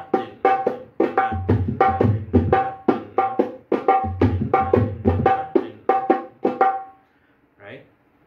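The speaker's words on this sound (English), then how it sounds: "And there was also the traditional Dholak way of playing it," Dholak played in a traditional bhajan theka, a brisk repeating pattern of crisp treble slaps over deeper bass strokes, close and loud, ending after about seven seconds with one faint trailing sound.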